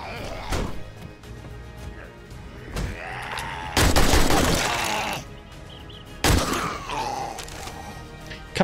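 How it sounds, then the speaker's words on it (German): Gunfire in the zombie survival game 7 Days To Die, with several sharp shots and two longer heavy bursts of firing, while someone talks in German between them. "Ich glaube, ich habe ein oder zweimal zu oft rumgeballert."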